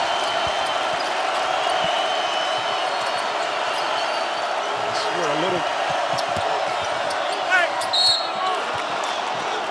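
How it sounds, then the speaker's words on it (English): Basketball arena crowd at Coleman Coliseum during a tied Texas A&M vs Alabama game, a sustained loud roar of rising, cheering fans with squeaking shoes and a bouncing ball, under a commentator's voice. "Nate Oates pumping up the crowd, coming to its feet at Coleman Coliseum."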